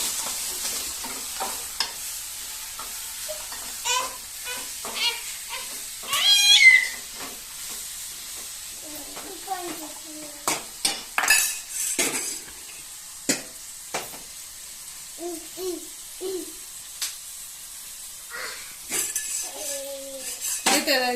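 Drumstick-leaf chutney fries in a pan while a utensil stirs it, making a continuous sizzle broken by repeated scraping strokes and sharp metallic clinks against the pan.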